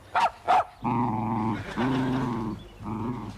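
A bad-tempered little dog gives two sharp barks, then a long, steady, close growl that pauses briefly before rumbling on, loud and with no talk over it.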